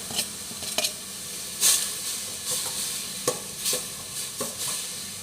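Lemongrass, chili, shallots and kaffir lime leaves sizzle and hiss in a hot pan, broken by sharp scraping stirs and clinks of a utensil against the metal at uneven intervals, steady and close with no talking.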